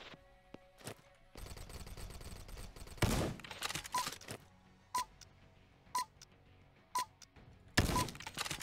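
Gunfire in a Warzone-style shooter video game: a burst of rapid shots near the start, then sharp single reports roughly once per second, each followed by brief echo, with no talk over them.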